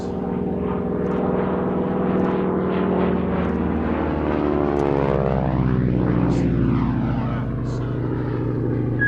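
A direct-drive propeller aircraft engine drones loudly and steadily in flight at a Shuttleworth airshow, its rich harmonic hum shifting slightly in pitch as it passes.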